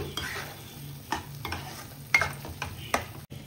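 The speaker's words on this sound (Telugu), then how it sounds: "అలా ఆయిల్ పైకి తేలే వరకు మనం దీన్ని ఫ్రై చేసుకోవాలి." Paneer butter masala gravy frying in oil until the oil separates, a soft steady sizzle with several scraping stirs of a spoon in the pan, fairly quiet and close, with no talk.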